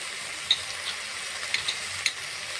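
Ground ginger, garlic and cumin paste with coriander, Kashmiri chili and turmeric powders sautéing in a pan for a fish curry, a soft steady sizzle with a few light clicks of a spatula, fairly quiet and close, no voices.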